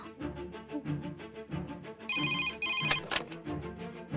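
A telephone rings out on a call to a lodge reception in a Tamil TV drama: an electronic ringtone melody that repeats in short pulses, fairly close and clear, with no talking over it.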